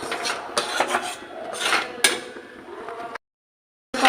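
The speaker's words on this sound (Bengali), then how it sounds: "অনবরত নাড়তেই থাকবো, নাহলে লেগে যাবে।" Carrot sweet dough being stirred continuously in a pan, giving a close, steady rasping scrape with small knocks that stops briefly before resuming.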